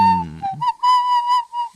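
A person whistles a short, breathy melodic phrase that resembles a pan flute, several sustained notes in a row heard close and clear, with no talking.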